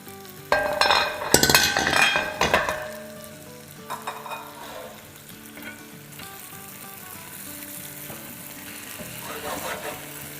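Tandoori chicken pieces sizzle and fry in a pan as they are flipped, with loud clattering and scraping at first, then a steady, quieter sizzle continuing alone.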